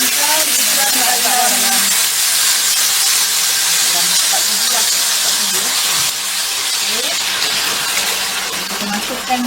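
Chilli sautéing in hot oil in a home kitchen, a steady loud sizzle and hiss running throughout with small crackles and pops, no talking over it.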